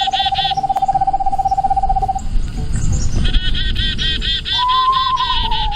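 A bird photographer imitates an owl by voice to attract birds in a dense hardwood forest, giving a sustained hooting call, then a second rising one, close and loud against a busy background of birdsong.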